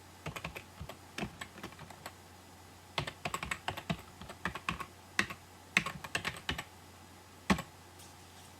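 Typing on a computer keyboard to enter a web address, with close, crisp key clicks in uneven bursts and brief pauses over a low steady hum.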